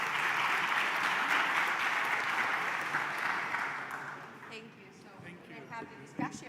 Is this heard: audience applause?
yes